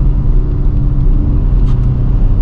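A Dodge Charger R/T AWD rumbles steadily from inside the cabin on a cold night drive, with a deep, loud and continuous engine and road drone.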